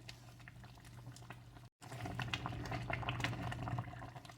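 Hot sugar syrup for home-canned jam boils in a pot, a steady close bubbling roil that cuts out for a moment, then returns slightly louder and continues.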